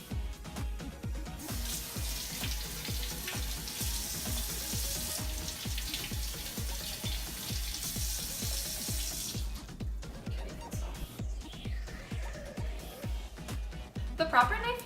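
Yellow and red peppers being washed under running tap water in a kitchen, a steady close splashing stream with soft irregular patter that stops partway, followed by quieter handling sounds.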